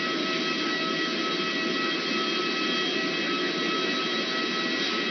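A 290-seat passenger jet airliner with economy, premium economy and business cabins, used to carry cargo, gives off a steady, loud, unbroken engine roar that holds evenly throughout with no voices.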